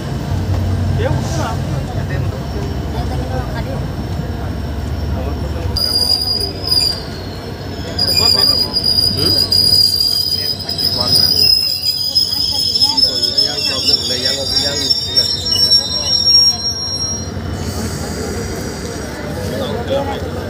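A train pulls into New Haflong railway station, its wheels squealing loudly with high-pitched screeches over a steady rumble of rail cars, while people talk nearby.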